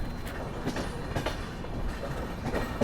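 Kolkata Duronto Express rolling on rails toward Ghaziabad station, heard from inside the train as a steady loud rumble with repeated clickety-clack wheel beats over rail joints and no voices.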